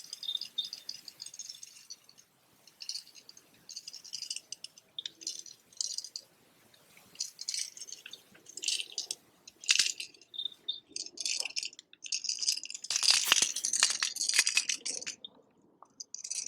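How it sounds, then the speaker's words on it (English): Livingston crankbait fishing lure rattling as it is pulled through rocks underwater, a busy, uneven stream of clicking, clinking rattles and knocks that swell and fade, close and fairly faint, with no voices. "It's a Livingston crankbait."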